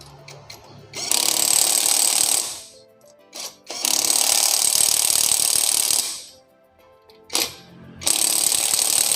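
A ZLD impact wrench runs in three loud, close bursts of rapid hammering rattle, separated by short pauses, with no talking.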